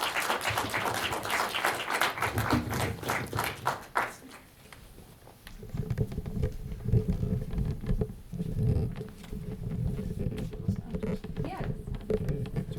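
Audience applause for a singer at a post-screening Q&A with a film director, a burst of clapping in the first few seconds that fades into murmuring and speech from the room.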